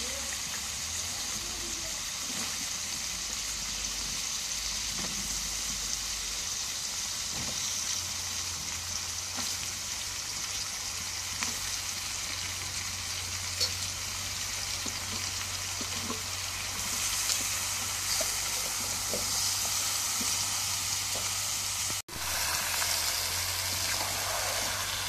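Pieces of bottle gourd frying in spiced masala, a steady dense sizzle that runs without a break, with faint scraping and stirring sounds underneath.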